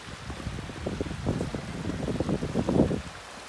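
A snow-swollen river near the sea churns and rushes in a continuous turbulent roar, with gurgling surges and some wind buffeting on the microphone.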